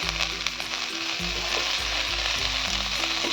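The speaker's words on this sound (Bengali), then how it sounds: "ভালো করে নাড়াচাড়া করে নেবো গ্যাসটা আমার কিন্তু একদম কমানো আছে" A potato, tomato and capsicum mash with chilli and coriander sizzles and fries in a pan over low gas, with a spatula stirring and scraping against the pan in steady, close, continuous motion and no talk.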